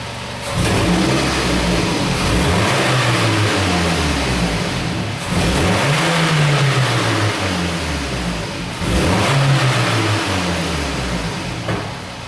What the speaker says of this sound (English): I'll jump on the throttle a couple times there while you watch this